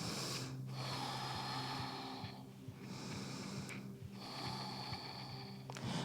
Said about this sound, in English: Slow down your breath.